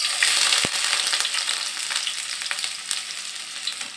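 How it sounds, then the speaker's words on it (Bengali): Chopped onion frying in hot oil in a wok for a potato and fish soup gives a steady, close, crackling sizzle that runs evenly throughout with no voices. "পেঁয়াজটা একটু ভেজে নেব হালকা বাদামি কালার করে"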